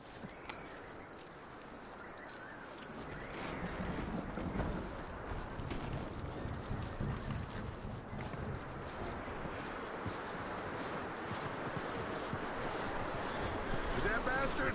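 Horse hooves clip-clopping in the video game Red Dead Redemption 2, a steady rhythmic trot under a constant bed of wind and ambient noise that grows a little louder partway through, with no clear voices.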